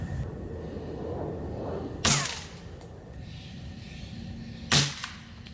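A Weihrauch HW50S spring-powered break-barrel pellet air rifle fires two sharp, loud shots a few seconds apart, each a crisp crack with a short decay, over quiet outdoor background.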